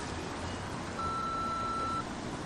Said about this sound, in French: Laissez votre message après le bip.